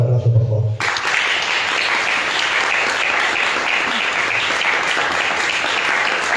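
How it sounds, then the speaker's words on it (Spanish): A crowd applauds inside the church of Santiago Apóstol in Tablate, the clapping starting after a brief moment of a voice and then continuing as a dense, even wave for several seconds. "Un fuerte aplauso, por favor."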